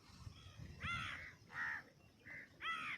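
A crow caws four times in short, harsh bursts near a reservoir at Gandikota dam where people are fishing, each call fairly close and clear over faint background noise.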